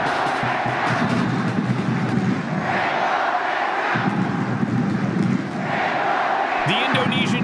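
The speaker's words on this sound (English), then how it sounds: "The Indonesian fans at the North Sumatra main stadium continued to cheer." Indonesian fans cheer and sing in the North Sumatra main stadium during an under-19 football match against Myanmar, a loud, sustained crowd roar with rising chant waves, with talk over it.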